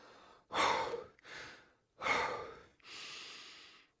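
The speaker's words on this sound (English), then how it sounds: "it's okay to take 1 or 2 mouth breaths to blow off that extra CO2" Four loud mouth breaths, in-out pairs, exhaled forcefully to blow off excess carbon dioxide before returning to nasal breathing; close and breathy with short pauses between, no talking.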